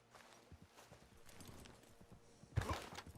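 Horse hooves clop at a walk in Red Dead Redemption 2, soft irregular steps under low background ambience, ending in a louder snort or thud.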